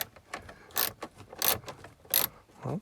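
A nut is worked loose with a wrench while removing the binnacle of a DeLorean DMC 12, giving a series of close, sharp ratcheting clicks and metallic bursts in an irregular rhythm.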